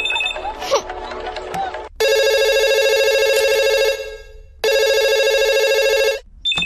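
A telephone ringing in a Telugu feature film: two long, loud electronic ring bursts separated by a short pause, after a stretch of quieter background sound.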